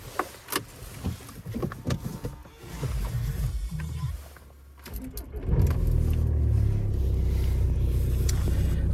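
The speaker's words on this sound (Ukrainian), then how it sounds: "поки що прогрівається машина" A car engine warming up outdoors after a forest walk, a steady low rumble that settles in loudly after a few seconds of quieter shuffling and ambient noise.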